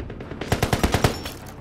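Rapid automatic gunfire from a video game crackles in a tight burst of about eight evenly spaced, loud shots, with lighter shots trailing before and after.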